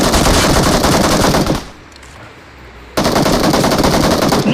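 Loud, sustained automatic gunfire in the battle royale game BGMI, two long dense bursts separated by a brief quieter gap, with no talk over it.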